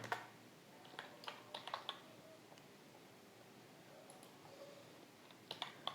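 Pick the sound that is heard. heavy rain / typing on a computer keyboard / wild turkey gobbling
typing on a computer keyboard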